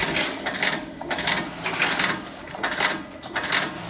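A KaNMaK automatic snap button press runs up close, giving a fast, rhythmic train of clattering mechanical pulses that rise and fall steadily throughout.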